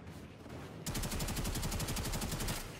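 Rapid automatic gunfire from the video game Warframe in a team deathmatch bursts in abruptly and rattles on in a fast, even volley for nearly two seconds, loud with no voices.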